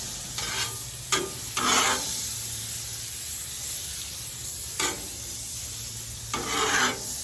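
Metal spatula scraping across a Masterbuilt 560 Gravity Series griddle in four separate rasping strokes, over a continuous soft sizzle of oil heating on the flat top, outdoors.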